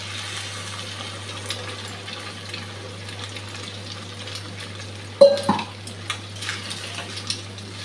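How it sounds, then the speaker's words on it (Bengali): Eggs fried with potato in a pan, a soft continuous sizzle with clattering spatula stirs and scrapes against the pan, a sharp knock partway through followed by scattered utensil clinks. "নেড়ে নেড়ে ডিমটা শুকিয়ে নিয়েছি, ভাজা হয়ে গেছে ভালোভাবে।"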